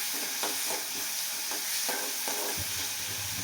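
Dal with turmeric sautéing in hot oil gives a steady, close sizzle with occasional stirring scrapes and taps of a utensil in the pan.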